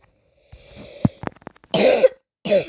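A woman who is still a little ill coughs, with a soft throat-clearing and a few small clicks first, then two harsh, close coughs, the first one longer than the second.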